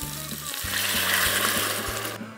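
Water poured into a hot pan of browned oxtail pieces for rice, a loud broad hiss and bubbling sizzle that swells and then cuts off near the end.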